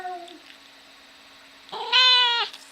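A pet cat lets out a clear, drawn-out meow close by, after a soft murmur and a quiet lull.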